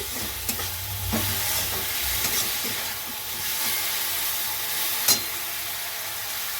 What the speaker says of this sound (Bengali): দেবো একটু কাসুরি মেথি দিয়ে ভালো করে নেড়ে